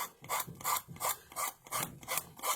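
A decoupaged wooden heart has its napkin edge rubbed down, making a quick, rhythmic back-and-forth rasping of about eight close, even strokes.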